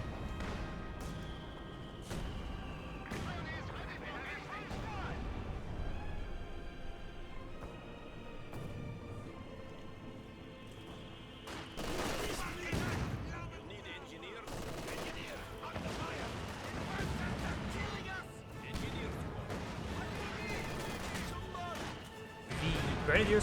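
Mortar half-track barrage in Company of Heroes 2, with repeated explosions and bursts of gunfire landing through a busy battle soundscape, some impacts louder and closer, under steady commentary talk.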